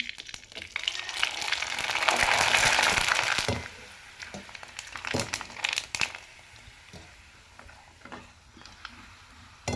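Rice sal papad frying in hot oil: a dense, loud sizzling burst at first, then easing into scattered crackles and pops of bubbling oil, with no talking.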